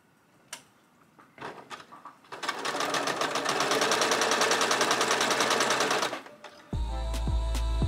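A domestic sewing machine stitches quilt block pieces in one steady, fast run of several seconds, preceded by a few clicks and handling noises and ending with a louder mechanical hum, with no talking.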